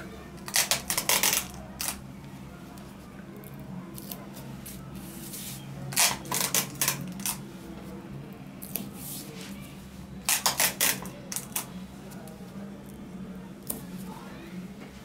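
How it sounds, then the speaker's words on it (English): Sellotape pulled off a roll and pressed down to fix a stencil onto a sheet of paper, heard as three short bursts of sharp ripping, quiet and close, spaced several seconds apart with calm between. "Use a little sellotape and tape it."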